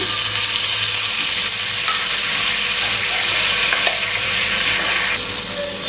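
Steady, crackling sizzle of butter frying on a hot dosa griddle, loud and continuous with no talking.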